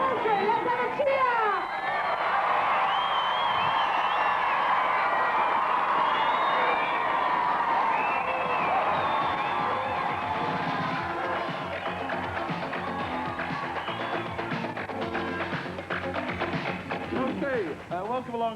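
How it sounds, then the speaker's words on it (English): Crowd at a BMX event cheering and chattering continuously, a dense wash of voices with whoops and shouts, loud and steady throughout. "Let's have a cheer."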